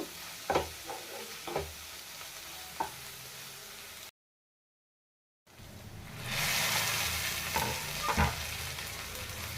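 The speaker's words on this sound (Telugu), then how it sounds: "ఇందులో కొంచెం కారం వేసుకుంటున్నాను ఇప్పుడు బాగా కలుపుకొని ఒక రెండు రెండు నుంచి మూడు నిమిషాలు మగ్గనిస్తాను" Ivy gourd with chili powder being stirred in a pan, a steady sizzle with scraping strokes of the spoon, broken by a short silence before the frying grows louder.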